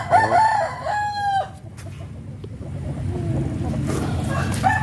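A rooster crows loudly and close while being bathed, a long drawn-out cock-a-doodle-doo at the start, followed by splashing and handling noise and a short clucking call near the end.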